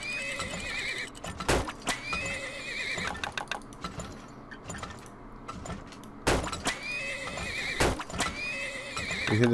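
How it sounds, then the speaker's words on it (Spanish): Horses neigh and whinny in the video game Turmoil, with two loud sharp whinnies standing out over steady clip-clopping hooves and a busy game soundscape. "Más caballos."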